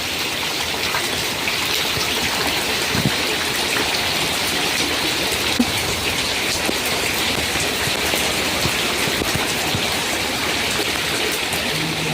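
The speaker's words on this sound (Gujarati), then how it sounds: "આપણે છાંટા જ પડે મોટા મોટા" Steady, dense heavy rainfall with big drops patters on a hard surface near Khambhaliya, Gujarat, close by and continuous, with scattered louder drops standing out in the hiss.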